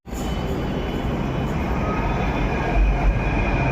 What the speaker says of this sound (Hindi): भाई मैंने देखो जयपुर मेट्रो